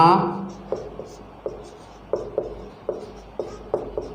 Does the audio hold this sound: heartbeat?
no